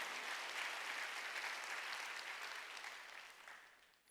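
Church congregation clapping hands during a Sunday worship service, a dense, even wash of many hands heard at a distance, steady then slowly fading toward the end.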